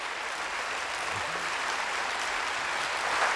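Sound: audience applause for Marcello Mastroianni

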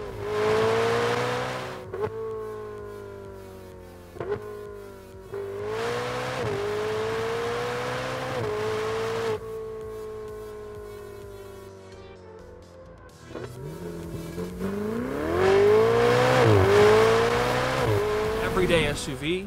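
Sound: Ferrari 488 revving with Ryft exhaust system

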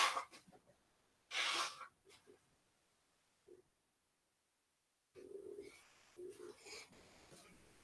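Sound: sneeze

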